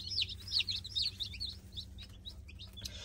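Baby chicks from a McMurray Hatchery shipment cheep in a box, a quick run of bright, high peeps close by in the first half, then sparser, fainter chirps.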